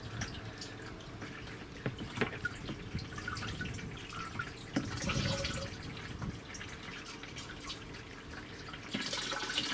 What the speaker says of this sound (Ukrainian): От набираю я і виливаю наш цей виливаю в наш бачук